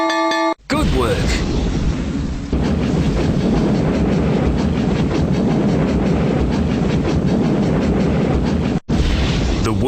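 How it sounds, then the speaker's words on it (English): A steady rumbling train with clattering wheels runs loud and continuous for nearly the whole stretch as a sound effect in a children's silent-B word game, with a brief cutout near the start and end. "The word train has stopped at the station."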